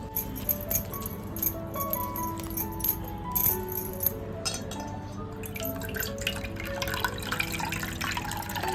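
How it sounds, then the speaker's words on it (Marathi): Dried fish being rinsed in a pot of water, with repeated close drips, splashes and light clinks of pieces knocking against the vessel, uneven and continuous without speech. "सर्व सुकटा व्यवस्थित धुवून घेतोय याच्यामध्ये पाणी घालून घेतलेलं आहे"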